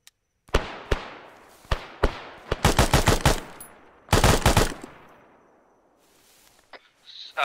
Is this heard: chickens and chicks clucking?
no